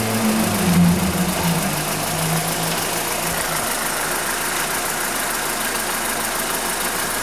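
A cold VW Spacefox 1.6 8v engine idles with a fault noise, a steady close mechanical hum and clatter, slightly louder during the first second and then settling into an even drone.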